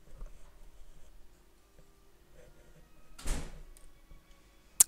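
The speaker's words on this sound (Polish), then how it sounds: "jeżeli słyszeliście to, to właśnie otworzył mi drzwi do pokoju" A room door opens in a home, heard as a sudden broadband scraping burst of a few tenths of a second, fairly loud against quiet background gameplay sound, followed near the end by a sharp short click.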